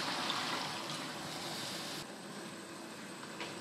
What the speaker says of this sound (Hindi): फ्राई पैन को धो के इसमें पानी ऐड करेंगे।